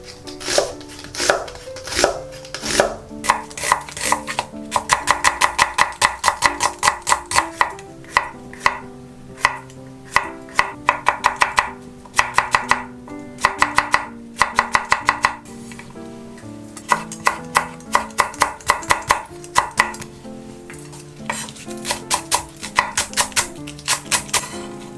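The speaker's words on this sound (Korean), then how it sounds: "모든 야채를 다 잘라주세요." A knife chops vegetables, including onion, on a cutting board for doenjang noodle soup. The close, crisp chops come in fast rhythmic runs broken by short pauses, with no talking.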